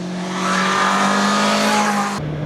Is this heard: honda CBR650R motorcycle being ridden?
yes